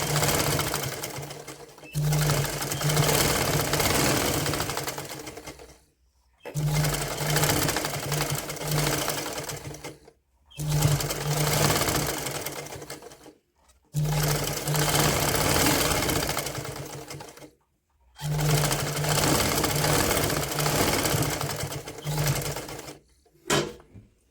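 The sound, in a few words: sewing machine stitching over elastic on woollen night suit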